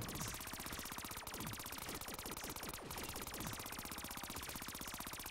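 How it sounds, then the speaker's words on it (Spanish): Continuous rapid gunfire in the zombies mode of the video game Call of Duty: Black Ops III, a loud unbroken machine-gun rattle with fast even shots and sharp echoing hits, and no talking. "Voy a hacer básicamente a disparar todo el rato y solo mover la mira"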